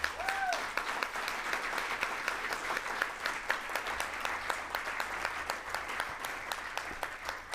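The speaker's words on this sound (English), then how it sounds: "let's give them a big round of applause here" Board meeting attendees applaud transit operators with steady, moderately loud clapping from a modest crowd, individual claps distinct, with a brief voice near the start.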